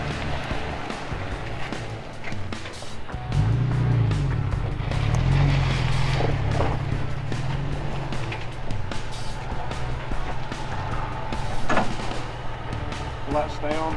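A van turns around and backs up on a frozen, muddy track, its engine running low and steady throughout with a rise in rumble midway, while people talk over it.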